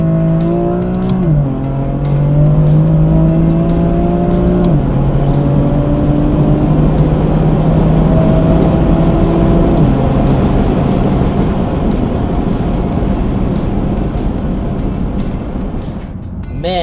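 A BMW M4 Competition (F82) fitted with downpipes and intakes revs hard through second and third gear, its loud, close engine note climbing, dropping at each shift, then climbing again before easing off.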